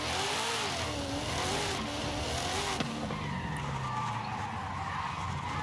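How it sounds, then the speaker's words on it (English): A Bugatti in Forza Horizon 5 sliding on the handbrake, its tires skidding with a loud continuous scrub under a high engine whine that falls in pitch as the slide eases, with no voices. "lots of sliding on the handbrake"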